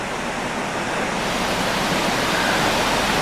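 A swollen river at Holly River State Park runs high beneath a bridge, producing a continuous broad rushing roar that holds steady and close, with no speech over it.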